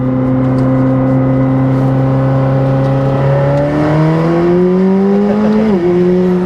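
A McLaren 765LT Spider's engine, heard through an open window on the Navarra circuit, hums steadily in the cabin, then climbs in pitch as it revs up before dropping sharply at a gearshift; loud and close.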